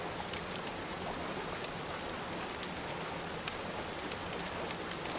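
Rain falls at a mountain campsite, a dense, even hiss of drops on surfaces with scattered sharper patters, continuous and fairly close with no voices.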